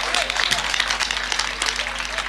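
Listeners at a mushaira poetry recital applaud, a busy, dense patter of clapping with a low steady hum underneath, sustained at a moderate level across the moment.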